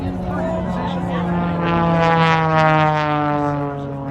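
A Lucas Oil Pitts Special aerobatic biplane makes a low pass over the runway at a Loveland, Colorado airshow, its engine a steady droning whine that swells as it approaches, then eases off.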